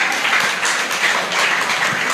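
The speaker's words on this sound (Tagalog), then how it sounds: "Palakpak para sa Panginoon." Applause from a church congregation during a worship service, a steady wash of many hands clapping together for about two seconds, fairly loud and even, with no clear talk over it.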